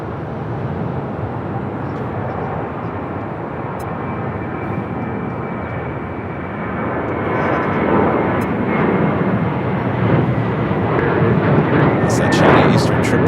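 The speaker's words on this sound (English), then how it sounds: "Touching down on 24 right there on the north side." A China Eastern Boeing 777 from Shanghai touching down on the north-side runway 24 at LAX: a broad, continuous jet roar that swells louder toward the end.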